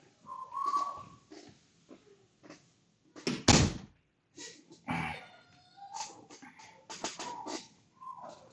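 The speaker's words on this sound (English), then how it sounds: "Let me close the door." An indoor door is pushed shut, giving one loud thud in the middle, surrounded by scattered creaks, rustles and whistle-like tones in a room.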